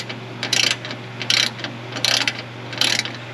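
A ratchet wrench with a 6-point socket works a rusty bolt loose, giving four short bursts of crisp clicking close up, separated by brief pauses as the handle swings back.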